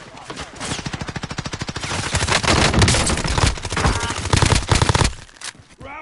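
Sustained rapid automatic gunfire in a PS4 shooter, a dense rattling stream of rounds with swelling and easing bursts that runs for several seconds before cutting out near the end.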